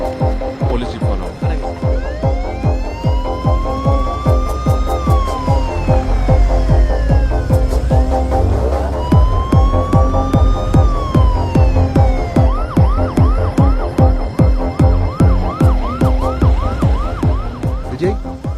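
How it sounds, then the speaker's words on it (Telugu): A police jeep siren wails loudly and close, rising and falling in long sweeps before switching to a fast yelping pattern, with a rhythmic pulsing underneath, from a Telugu mystery film. "Police jeep follow."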